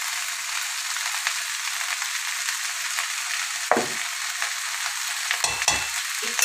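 Rice fries in ghee and white oil in a pan, a continuous close sizzle broken by a few louder scraping stirs of a spoon, with no voices.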